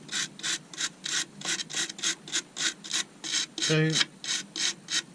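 A small stainless steel brush scrubs loose bark from a walnut live-edge bowl in quick, even back-and-forth strokes, a rhythmic raspy rubbing with a brief tonal squeak near the end.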